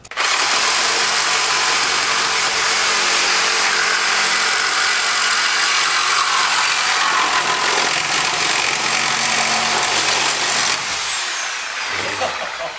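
A power tool cuts off the rusty exhaust pipe of an old Pontiac that sat seized in a barn for 48 years, producing a loud, continuous grinding roar that runs unbroken for about twelve seconds before easing slightly at the end.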